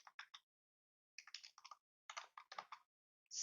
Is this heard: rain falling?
no